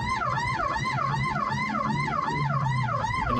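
An ambulance siren wailing in a rapid rising-and-falling pattern, steady and moderately close, over a low engine hum, with no talking.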